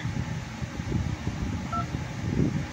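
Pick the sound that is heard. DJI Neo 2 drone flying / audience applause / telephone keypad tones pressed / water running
telephone keypad tones pressed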